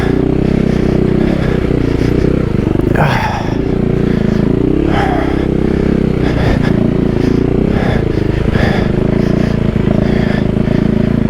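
A Husqvarna 401 motorcycle rides a dirt trail with berms, its engine droning loud and close throughout with repeated rises in revs and scraping, clattering bursts from the wheels.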